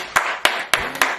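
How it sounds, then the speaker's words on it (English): Four sharp hand claps in a quick, even rhythm about a quarter second apart, close and loud, a short burst of applause. "We're gonna give you a round of applause, you feel me?"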